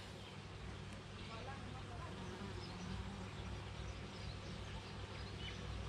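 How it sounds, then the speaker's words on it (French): Honeybees foraging on a basil plant set between hives, a continuous close buzzing drone of many insects with faint outdoor background noise. "là j'ai un pied de basilic que j'ai mis entre les ruches, et puis vous voyez, ça butine à fond dessus"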